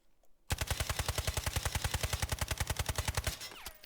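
An automatic weapon in the video game Delta Force fires a rapid sustained burst on a firing range, around thirty evenly spaced sharp loud shots, then stops abruptly.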